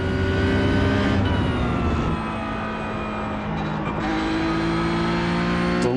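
A Porsche Cup race car in iRacing laps the historic Catalunya circuit. The engine drones loud and unbroken, its pitch dipping and rising as the car brakes and accelerates.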